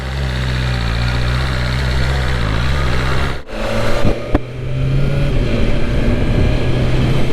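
A 2022 BMW S1000RR M Sport motorcycle engine runs with a loud, steady drone. It briefly cuts out, then returns with sharp revving surges.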